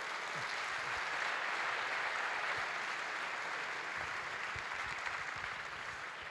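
A gala audience applauds with dense, sustained clapping that holds steady throughout, sounding like a large hall full of people.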